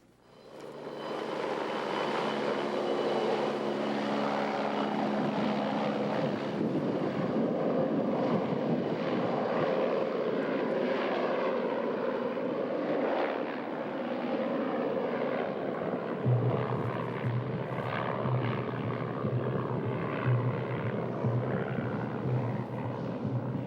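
An aircraft flies mail, food and supplies into the village on Little Diomede island, Alaska. Its engine drone is a steady, loud, broadband roar that holds throughout, with a low rumble added toward the end and no talking.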